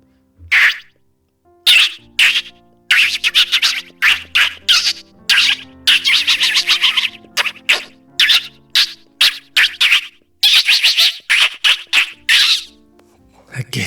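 A voice mimics a crowd of birds in a tree with a rapid, uneven stream of sharp squeaky chirps and twitters, loud and close, with brief gaps between bursts.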